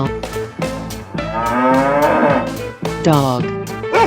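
A cow in a 3D animal video game gives a long, loud moo that rises and falls, followed by a second shorter moo, with no talking.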